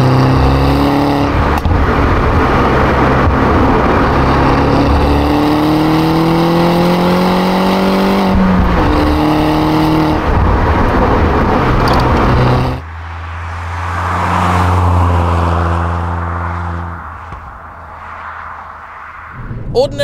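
A turbocharged R56 MINI JCW drives hard on a twisty road, its engine loudly revving up through the gears with brief lifts between shifts, then easing to a lower drone, with speech heard throughout.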